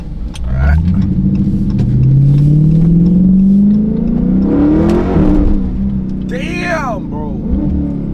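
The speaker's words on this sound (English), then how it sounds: "I love that naturally aspirated V8 engine" A Dodge Charger Scat Pack's naturally aspirated 392 V8 revs up in a long rising sweep, then eases off, heard close by from inside the car with some voices.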